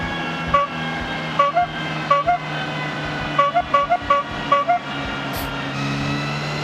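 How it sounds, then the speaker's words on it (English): A clown-style car horn in the Forza Horizon racing game toots in quick repeated bursts, single beeps then clustered double and triple honks over a steady engine hum. "that same sound, the clown car sound"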